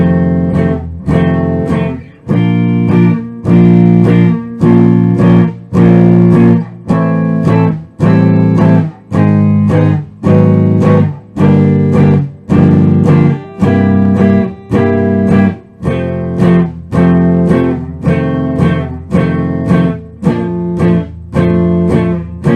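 An electric guitar strums a bar chord progression beginning on F in a steady, even rhythm, with many crisp chord hits ringing loud and close and no talking.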